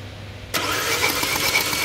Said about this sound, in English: Crank it. Slowly crank one time.